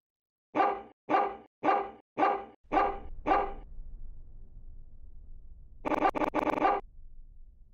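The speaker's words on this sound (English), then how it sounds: "Oh, now he's got big boy bark." Six loud, evenly spaced deep barks from a big dog in the video game Giraffe Town, then low rumbling background sound and a final burst of harsher noise.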